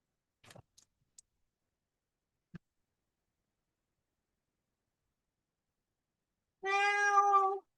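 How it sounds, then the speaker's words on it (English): A house cat gives a single drawn-out, clear meow close by, alone after a few faint scattered clicks and near silence. "my cat is talking."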